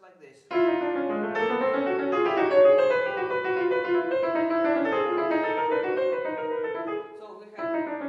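Piano plays a continuous, moderately soft passage from Shostakovich's Piano Sonata No. 1 with the left-hand counterpoint moving under the upper line, without a break, for about seven seconds.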